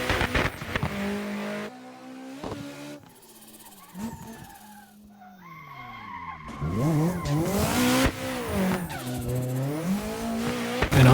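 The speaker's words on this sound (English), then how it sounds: "right there, the front tires start sliding and the car runs wider than I expected" Front tires slide and squeal mid-drift in a racing game drift mod, while the engine rises and falls through bursts of revving. A brief lull in the middle gives way to louder, wavering screeching.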